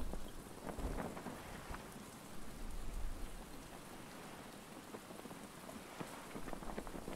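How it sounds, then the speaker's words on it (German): Rainfall in the survival video game Stranded Deep, a continuous hiss of drops pattering on surfaces, fairly even in level from start to finish. "Es kann mal aufhören zu regnen allmählich, oder?"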